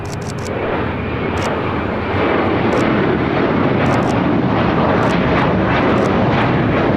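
A Fiji Airways Airbus A350 arrives on runway 25 left, its jet roar a broad, steady rumble that swells slightly partway through, with faint clicks over the top.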